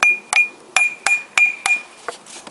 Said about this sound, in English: I need to hammer this old part